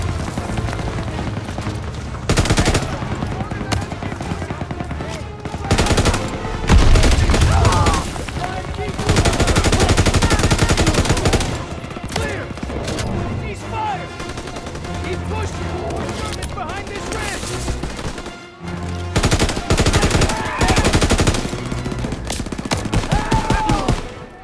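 MG-42 machine gun fire from a World War II battle in Call of Duty WWII, with dense, continuous bursts of gunfire and booms running throughout, mixed with shouted voices and battlefield noise.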